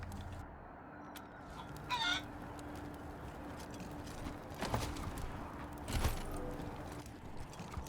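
A cyborg chicken in the video game Wasteland 3 clucks a few times amid a quiet low ambient hum, with faint short bursts spaced out over several seconds.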